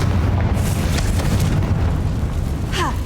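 In the Hogwarts Legacy video game, a Confringo spell explodes with a loud, rumbling boom that sustains as a dense roar, joined by a faint whooshing effect near the end.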